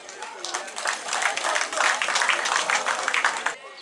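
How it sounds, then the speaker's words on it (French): Applause at an investiture ceremony for the president of the girls and women of Diabouo, a crowd clapping in rising, uneven bursts that swell and then taper off. "Vous l'applaudissez pour cela."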